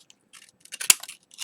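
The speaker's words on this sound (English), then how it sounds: "I'll probably just use my fancy scissors and just cut across" Fancy scissors cut across a piece of card or paper for a gift card holder, a few quiet snips building to one sharp crisp cut, close and alone.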